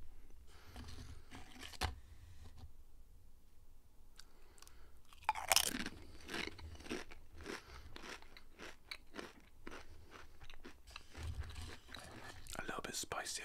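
Pringles crisps are eaten up close: loud crunches, then steady wet chewing and mouth sounds in a quiet room, with soft whispering in places.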